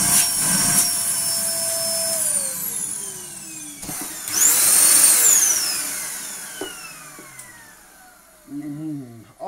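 A refurbished Hitachi Stowaway CV-7405 vacuum cleaner runs with a loud whine that changes pitch as the motor speeds up and slows down, with a rising surge midway and brief voices and handling noises near the end.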